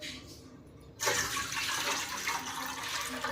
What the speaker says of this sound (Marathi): ह्याच्यामध्ये मी 1 तांब्या पाणी घालणार आहे